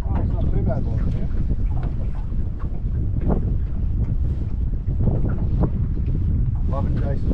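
Strong wind buffeting the microphone outdoors while fishing from a boat, a loud continuous rumbling roar with gusts, and someone talking over it.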